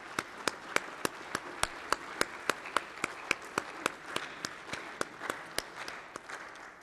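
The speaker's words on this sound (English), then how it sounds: "Let's give a round of applause for Mark Pollard" Steady, evenly spaced claps ring out one after another, sharp and fairly quiet, as a Kaiser High School football team gathering honours its offensive skill and special teams coach, Mark Pollard.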